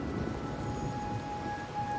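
Steady rain in the video game Wuthering Waves patters softly in the background with a faint low rumble, quiet and continuous.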